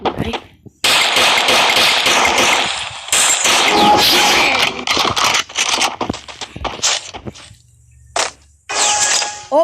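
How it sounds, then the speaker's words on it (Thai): Rapid bursts of AUG assault rifle fire in the Free Fire mobile shooter during a 4v4 match, loud and close, with several long volleys broken by short gaps and a few brief final shots. "ครั้งนี้ก็เราจะใช้ปืนอะไรกันดี แน่นอนครับ AUG นะครับ ปืนนี้ก็เข้ามาใหม่นะครับ"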